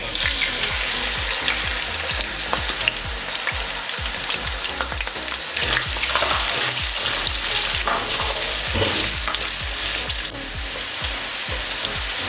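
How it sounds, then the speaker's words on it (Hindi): Sliced onion frying in hot oil in a pan, a steady loud sizzle with occasional stirring scrapes, no talk. "अब इसमें प्याज शामिल करेंगे और इसको गोल्डन होने तक हम फ्राई कर लेंगे।"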